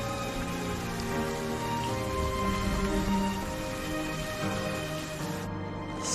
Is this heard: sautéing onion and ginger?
no